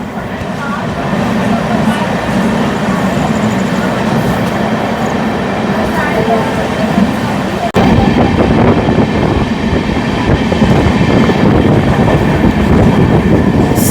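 Jabalpur–Raipur Intercity Express passenger train running on rails, a loud steady rumble of wheels and carriage throughout, with a brief dip near the middle before the roar resumes slightly louder.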